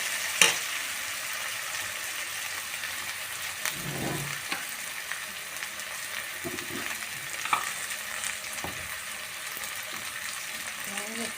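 Boiled potato sabzi with garlic fries in a pan, giving a steady hiss that runs throughout, with a few soft scrapes and knocks from stirring and one sharp clink near the start.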